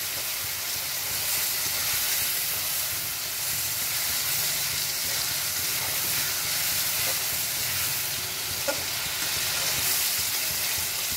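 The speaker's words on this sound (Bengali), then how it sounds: "এবার নাড়ানো চাড়ানো, হাত এবার খুন্তি এপাশে ওপাশে, খুন্তি এপাশে ওপাশে, এবার নাড়িয়ে চাড়িয়ে" Tomatoes fry in a pan and are stirred side to side with a spatula, giving a loud, dense, steamy hiss that holds steady throughout, with faint scraping underneath. No voices are heard.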